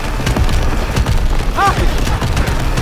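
Heavy gunfire and explosions in the Call of Duty WW2 game, loud cracking shots and booming impacts in a dense continuous barrage, with shouted voices mixed in.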